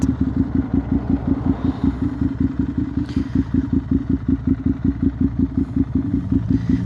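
A Ducati Monster 659 motorcycle engine throbs steadily while being ridden, a loud, close, even pulsing drone with rushing wind noise layered over it throughout.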